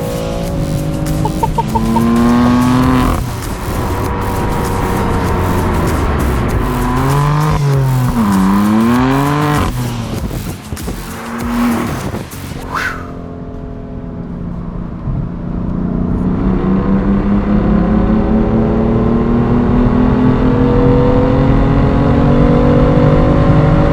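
A loud car engine revving hard, pitch rising and falling with throttle blips, then a long sustained roar climbing under acceleration, with some tire squeal.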